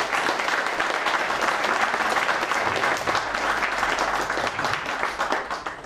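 Audience applause fills a jazz concert hall during a Zaduszki Jazzowe performance by a brass big band, a steady dense clapping that holds loud and even throughout with no talk over it.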